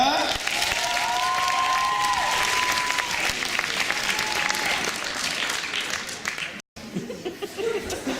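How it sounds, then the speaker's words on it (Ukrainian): Audience at a KVN-style comedy contest semifinal breaking into lively applause mixed with scattered laughter and cheering, loud and close. The clapping thins briefly near the end, cuts out for a moment, then resumes. "Ваші бурхливі оплески!"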